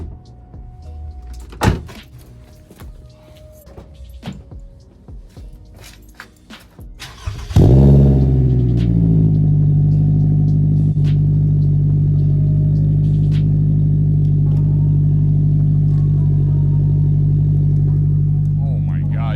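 A car engine starts with a clunk, then settles into a loud, steady low exhaust drone during a road test after an exhaust hanger repair, continuing without a break.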